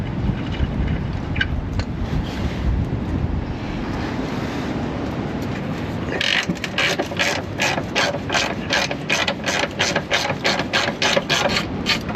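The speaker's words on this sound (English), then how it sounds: "I'm going to take out the couple of bolts at the front as well, because then we can get the whole tray out" Ratchet wrench working bolts loose from the front underbody tray of a Jaguar F-Type, a rapid rhythmic clicking in quick bursts after several seconds of low rumbling background, fairly close and loud.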